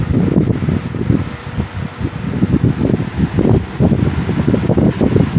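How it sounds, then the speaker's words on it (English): A Wizard box fan runs steadily by a window, blowing air with a continuous low whooshing rumble and a slightly pulsing flutter, close and loud, with no rattle or talk. "Running very smoothly. It's putting out a good blast of cool air that it's pulling in through the window."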